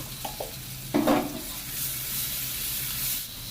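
Garlic paste fries with red amaranth greens in a pan, giving a continuous close sizzle. A few light scrapes and one brief louder stirring clatter come early on.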